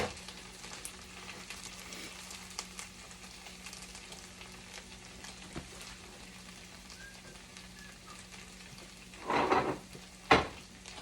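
Hash browns with onion and pepper fry in a pan with a steady, hissing sizzle throughout, close by, ending in two louder clattering scrapes near the end.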